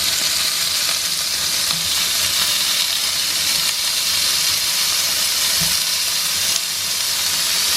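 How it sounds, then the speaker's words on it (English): Halloumi fries on a greased griddle with a loud, continuous hissing sizzle that stays steady throughout, with a couple of faint low knocks and no talking. "So halloumi going into the griddle."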